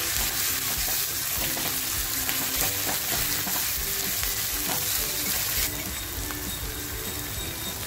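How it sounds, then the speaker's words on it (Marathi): Home-pounded masala frying in hot oil, a steady broadband sizzle with stirring and scraping throughout, loud and close, softening slightly near the end. The dish is a stuffed eggplant bharit with dried shrimp. "आणि तो कुटलेला मसाला मी या तेलामध्ये टाकते बघा।"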